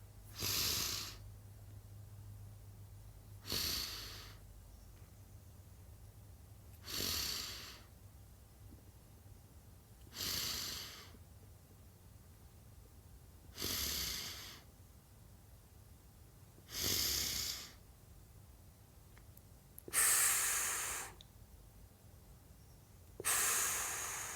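Slow deep breaths come at an even pace, about eight long airy inhales and exhales spaced a few seconds apart, close and clear against near silence.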